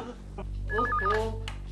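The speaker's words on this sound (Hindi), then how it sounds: "केशव फोन क्यों नहीं उठाते?" A warbling electronic telephone ring pulses briefly, with a short burst of other sound before and after it.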